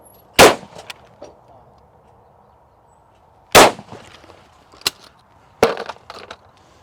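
A shotgun fires at clay targets: three sharp, loud blasts spaced a few seconds apart, each with a short trailing echo, plus some faint clatter between shots and no talking.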